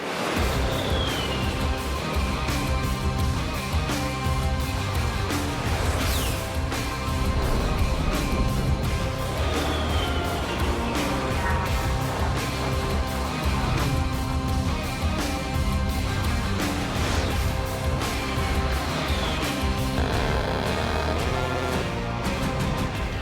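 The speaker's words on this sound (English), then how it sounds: "That sound you just heard from the 30mm gun is probably the most iconic gun sound in the world." An A-10 Warthog's 30mm cannon firing, with rounds striking a target, heard as a dense, loud, continuous roar of rapid fire and impacts that fills the whole stretch with no gaps or talking.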